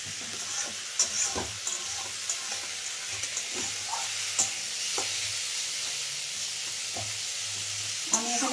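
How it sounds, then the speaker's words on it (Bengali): Ginger, nuts, poppy seeds and tomato sizzle in a pan for a capsicum dish while a utensil stirs them, giving steady frying hiss punctuated by scraping knocks. "এটা আমি একটু আলতো হাতে নেড়ে নেব"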